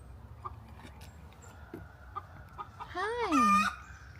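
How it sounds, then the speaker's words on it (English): A farmyard chicken gives scattered soft clucks over a quiet outdoor background, then a loud, close drawn-out crow or squawk with a rising and falling tone near the end. "And there's my chicken."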